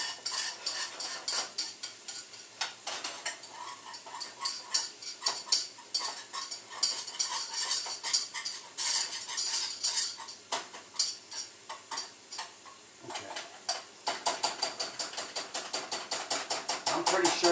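A wooden spoon stirs and beats a mixture in a bowl, rapid rhythmic tapping and clacking against the sides, continuous and close, with brief pauses.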